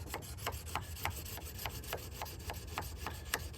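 Mora Companion stainless knife with a Scandi grind drawn across a sharpening stone, a steady series of soft, evenly spaced rasping strokes, close and quiet, about three per second.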